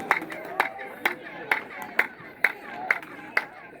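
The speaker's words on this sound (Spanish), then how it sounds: "Voy a aplaudir para ustedes." Single hand claps ring out at the foot of the Kukulcan pyramid at Chichen Itza, eight evenly spaced sharp cracks, each followed by a chirping echo, with faint crowd murmur behind.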